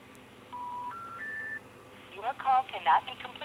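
A telephone number is dialed, a short run of three rising keypad tones, followed by a recorded voice speaking over the line.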